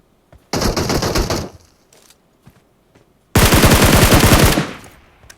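Automatic gunfire in the mobile game PUBG Mobile: a loud one-second burst of rapid shots, a few faint scattered clicks, then a longer, louder sustained burst, with no talking over it.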